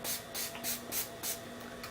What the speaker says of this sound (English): I'm going to go in with my Urban Decay Chill Makeup Setting Spray